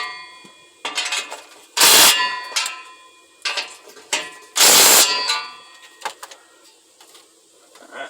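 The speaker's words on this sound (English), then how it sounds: "Let me tighten these up." Metallic clanks and ratcheting while bolts are tightened on a newly installed Carven R muffler replacing a Flowmaster Super 10, two loud sharp clangs among lighter intermittent tool clicks, close by.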